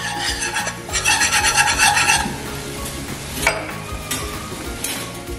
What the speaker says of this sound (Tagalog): siguraduhin ninyong na-mix ninyong mabuti yung inyong flour para hindi siya magbuo-buo o may lasang harina yung ating sauce